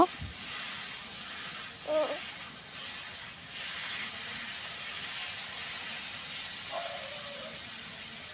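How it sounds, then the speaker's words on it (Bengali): Fish heads hiss and sizzle in a hot pan with pumpkin, a steady broadband frying hiss throughout with a couple of brief scraping touches as they are stirred. "দিয়ে দিচ্ছি মাছের মুড়োগুলো মুড়ো দেওয়ার পরে আবারও নেড়ে নিচ্ছি"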